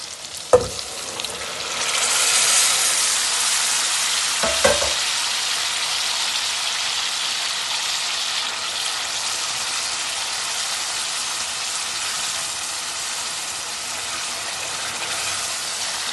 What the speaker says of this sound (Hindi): दाल को अब जो है वो मसाले के अंदर कढ़ाई में डालेंगे और फिर इसको दम दे देंगे